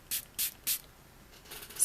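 e.l.f. Makeup Mist and Set is spritzed onto a makeup brush in three quick, close, soft hissing bursts in a row, followed by a fainter fourth puff.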